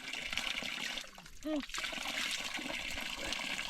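Water trickling and splashing from a spring in a forest, a steady close flow with a brief splashy surge midway and a voice heard faintly once.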